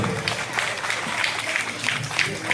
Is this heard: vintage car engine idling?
no